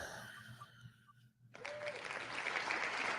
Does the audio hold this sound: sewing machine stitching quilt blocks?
no